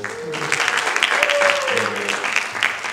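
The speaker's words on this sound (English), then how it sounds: "A round of applause for Michael" A round of applause from an audience crackles along for a few seconds, moderately loud, with voices and a whoop or two mixed into the clapping.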